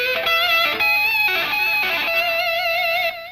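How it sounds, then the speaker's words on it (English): A distorted electric guitar sounds an octave plucked behind the thumb, with the pickup tucked between the first and second fingers. The notes ring bright and sustained, played alone at a steady, loud level for about three seconds before cutting off. "picking behind your thumb, kind of plucking the string and using your second finger"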